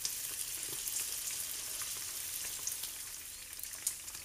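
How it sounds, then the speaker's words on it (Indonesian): Marinated chicken fries in hot oil over medium heat, giving a steady, faint crackling sizzle with scattered pops throughout and no talk. "Setelah dimarinasi, langsung aja kita goreng ayamnya. Goreng di minyak panas di api sedang."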